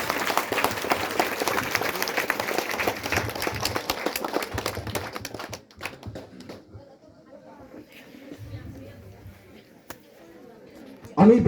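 Students stand and clap for their teachers at a school talk: loud, crowded applause for about five seconds that thins and dies away into a quieter room, where a few stray sounds and voices remain.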